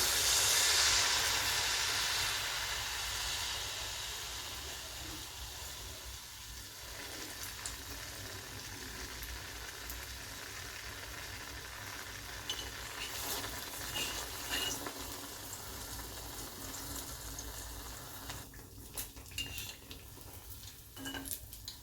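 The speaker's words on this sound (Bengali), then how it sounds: "তেলটা গরম হয়ে গিয়েছে এবার আমি একটা একটা করে ভেজে নিচ্ছি" Palm malpua fritters fry one by one in hot white oil over a low flame, a continuous soft sizzle and hiss with scattered clinks of a utensil against the pan, fairly quiet throughout.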